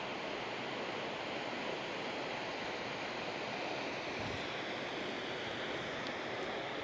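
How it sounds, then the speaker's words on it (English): A waterfall on the road to Tauranga roars in a constant, dense rush of falling water. The sound is steady and unbroken throughout, with no talking. "What a beautiful waterfall though."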